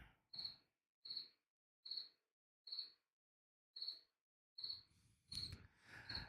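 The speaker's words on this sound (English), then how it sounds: "I got crickets in the background." A cricket chirps in the background at a speedway after rain, with soft, evenly spaced chirps roughly every three-quarters of a second, faint and alone, and a few more crowded together near the end.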